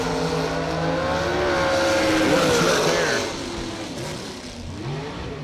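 A shorty dragster launches at a drag race, a loud rising engine wail with sweeping pitch that peaks midway, then drops off as the car pulls away, leaving a lower rumble.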